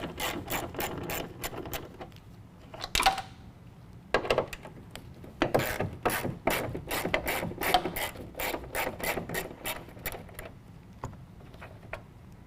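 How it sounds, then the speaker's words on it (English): A hand ratchet works loose the 8mm bolts holding an LED tail light, rapid clicking bursts in quick rhythmic runs with short pauses between them, close and fairly quiet. "on the inside we can see two 8mm bolts. We're going to go ahead and remove those"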